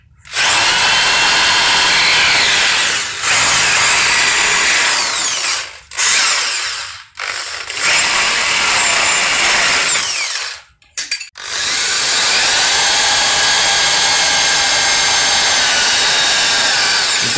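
A power drill bores a hole through metal on a US truck being fitted with a Howo WD615 Euro 3 engine, whining loudly and steadily with several brief pauses where the motor stops and restarts.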